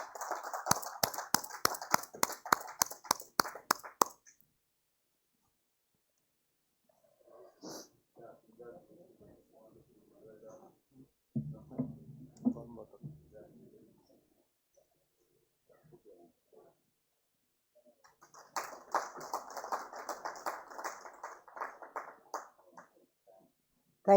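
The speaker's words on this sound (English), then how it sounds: "Please give them a big round of applause." Applause from an awards-ceremony audience, a burst of many clapping hands at the start, then a quiet stretch of scattered sounds and a lower murmur, before a second round of clapping swells near the end.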